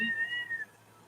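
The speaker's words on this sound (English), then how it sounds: "Hey, Daddy Kitty" A cat gives a single clear meow, close and fairly loud, trailing off after about half a second into quiet.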